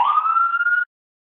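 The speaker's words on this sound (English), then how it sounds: "You hear that siren?" A police siren wailing outside, a single steady rising tone that cuts off abruptly after under a second, loud and alone.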